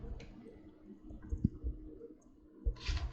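A few light computer mouse clicks, close and sparse, over a quiet low hum, with a brighter burst of clicking at the end, while updating a Gigabyte motherboard BIOS.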